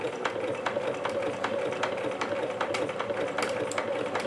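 A sewing machine stitches fabric, working over the same spot more than once. It gives a steady mechanical whir with rapid, even needle clicks throughout, close and moderately loud.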